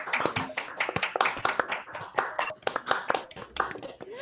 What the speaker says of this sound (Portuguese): E vamos bater palmas de novo para o Guilherme